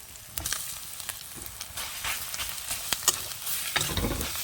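Grated cabbage and egg sizzle steadily in a hot pan while a utensil scrapes and stirs in short, close strokes; no one speaks.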